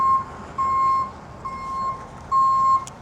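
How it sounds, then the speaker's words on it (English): Reversing beeps from a tow truck come in a steady, evenly spaced series of loud electronic tones, with a low ambient rumble beneath them and no talking. "All right, so we got the tow truck here."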